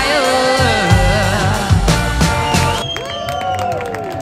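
A crowd applauds and cheers the sunset at Arpoador, clapping loud and close for about three seconds over music, then fading into quieter chatter.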